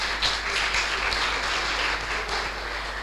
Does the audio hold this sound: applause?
yes